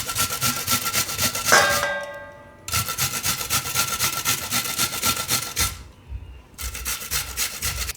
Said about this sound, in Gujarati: તો મૂળો આમાં છીણી લેવું આપણે.